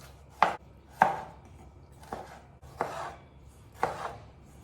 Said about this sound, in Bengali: টমেটোটাও কেটে নেব।